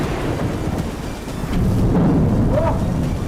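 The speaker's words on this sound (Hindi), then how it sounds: "बादल बहुत तेज गरज रहा है।" Loud thunder rumbles heavily through a rainstorm among large rocks, a deep rolling roar that swells and stays strong over steady rain hiss, with no voices.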